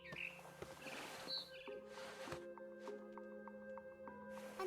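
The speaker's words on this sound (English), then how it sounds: "Then I heard chirping outside my window. It was a barn swallow going back to her nest." A barn swallow chirps outside a window in the game What Remains of Edith Finch, giving several short, bright calls over a soft ambient music bed.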